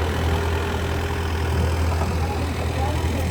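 A tractor engine idles in a steady, low hum continuously throughout, close by, with faint background noise and no clear speech.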